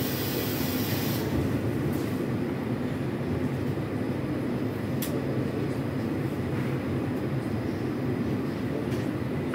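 An 81-740 Akvarel Moscow metro train runs through the tunnel with a steady loud rumbling drone heard from inside the car, with faint clicks over the continuous roar.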